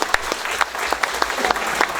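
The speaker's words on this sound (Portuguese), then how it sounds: "Uma salva de palmas para os contadores" A forum audience applauds accountants, loud, close, dense clapping from many people with distinct sharp individual claps standing out in an irregular rhythm throughout.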